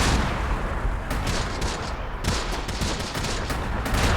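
Mortar fire and gunfire from the Close Combat World War II strategy game with the Big Red One, dense, continuous overlapping bursts of shots and explosions, loud and unbroken throughout.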